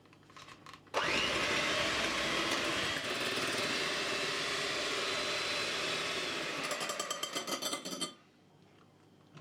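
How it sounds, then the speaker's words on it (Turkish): An electric hand mixer whips eggs with sugar, switching on abruptly with a loud, steady whirring buzz that runs for several seconds before rattling and cutting off. "Güzelce kıvam alana kadar çırpma işlemimizi devam ettiriyoruz."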